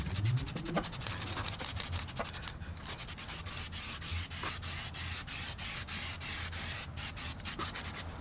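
A speaker bracket for car audio being spray-painted in a steady, continuous hiss of paint with close rubbing and rattling over it, and a brief pause partway through.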